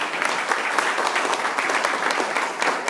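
Church congregation applauding in worship for Jesus Christ, a dense, steady wash of many hands clapping at close range, sustained and even for the whole stretch with no voices standing out.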